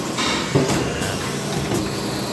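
A cutting machine runs steadily on a factory floor in Korea, giving a continuous broadband mechanical whir and hiss with a couple of brief clunks, close and loud, with no talking.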